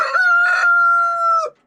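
A rooster in a backyard chicken flock crows once, loud and near, a long steady pitched call that breaks off sharply after about a second and a half, with no talk.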